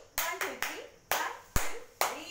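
Children in a classroom clap in a rhythmic pattern of six sharp, loud claps in quick bursts, each followed by a brief ring of the room, with no talk over them.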